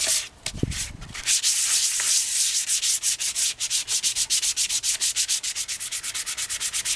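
Hand sanding along the edges of classic Honda roadracer motorcycle body parts, a close, loud abrasive rubbing that begins as a steady scrub and settles into quick, regular back-and-forth strokes.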